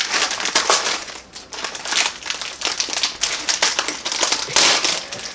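Candy cane Peep marshmallow candy being torn open and picked apart, a dense run of close crinkly crackling and tearing bursts that keeps going throughout with short pauses, no talking.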